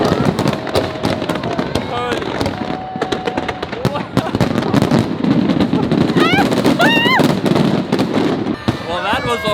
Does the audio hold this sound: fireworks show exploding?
yes